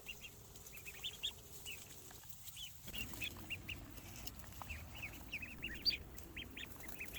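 Ducklings and chickens in a mobile coop outdoors give faint, scattered peeps and clucks, short high calls repeating irregularly over a low background hum.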